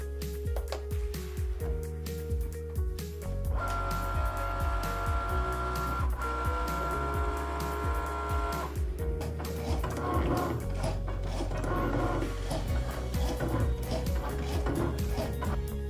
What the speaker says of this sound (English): The engrave will take a bit of time since the Cricut will be engraving the image 3 times